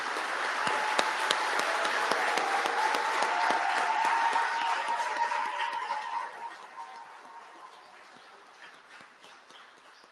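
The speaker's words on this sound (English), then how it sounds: "another big round of applause" At a university graduation ceremony, a large audience applauds doctoral and master's degree recipients with broad, sustained clapping that holds steady for several seconds, then gradually fades and thins out toward the end.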